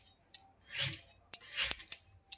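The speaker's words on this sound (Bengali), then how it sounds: "একটা আলু কেটে ভাজবো, গোল গোল করে ভেজে নিব" Knife slicing a potato into thick round slices, two distinct crisp cuts about a second apart, each a short scraping slice ending in a sharp tap on the board, close and fairly quiet with no talk.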